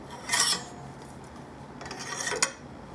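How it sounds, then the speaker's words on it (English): An angled mandrel works dents out of a trombone tuning slide with two short, close metallic rasping rubs separated by a quieter pause. "now I'm getting the dents in the small area that I can get with this mandrel that I could not get with the other one"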